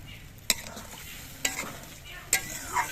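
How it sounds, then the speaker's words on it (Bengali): Water going into spiced masala frying in a pan for a Bengali koi fish curry, with a steady low sizzle broken by three sharp spoon-on-pan scrapes and a soft splash, close and without talk. "এবার এর মধ্যে আমি জল দিয়ে দিচ্ছি"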